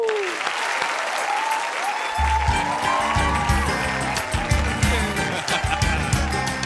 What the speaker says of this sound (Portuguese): Aplaudam Augusto César e Suzana Lira